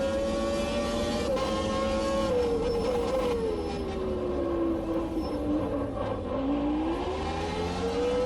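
A race car engine in the Automobilista 2 video game drones loudly and steadily, its pitch sliding down and then climbing again as the car shifts and accelerates, with no talking.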